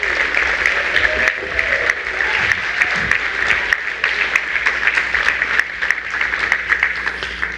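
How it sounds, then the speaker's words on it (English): Steady audience applause for students at a high school senior awards and scholarships ceremony, a dense continuous clapping that fills the hall at full volume, with faint voices underneath. "Let's have a nice round of applause for those students."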